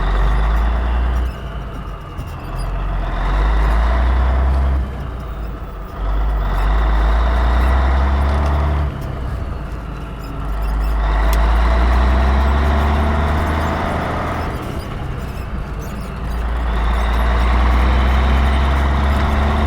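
Engine of a 1985 Ford CL9000 truck running loud and close, a deep rumbling idle that swells in several long revving surges.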